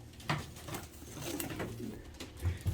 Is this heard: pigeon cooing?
yes